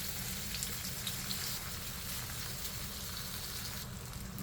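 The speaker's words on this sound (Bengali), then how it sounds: "এখন মাছটাকে সুন্দর করে ভেজে নিই। তেল গরম হয়ে গেছে" Small fish sizzle and crackle in hot oil in a home kitchen pan, a steady close hiss dotted with sharp spatters and pops, alone without talk.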